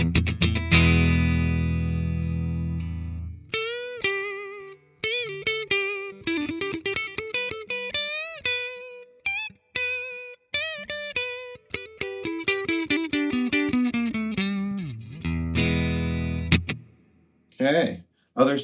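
An electric guitar on its Wilkinson P90 neck pickup, with distortion and effects, opens with a sustained chord and then runs quick single-note melodic phrases with bends, loud and close.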